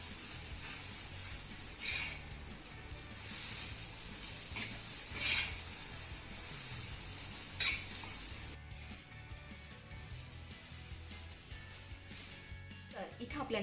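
A spatula stirs and scrapes crumbled dill-leaf muthke, bound with gram flour, around a pan. The clinks and scraping come and go under a continuous voice.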